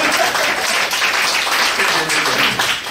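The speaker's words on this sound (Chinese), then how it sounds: "通常这时候会有点掌声。" An audience applauds a speaker at the COSCUP 2019 open-source conference talk, with brief scattered clapping in a hall that stays fairly steady throughout.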